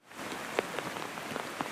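Torrential rain pours down during a severe storm with flash flooding in Ottawa, a dense steady hiss with scattered drop impacts, fairly faint and brief.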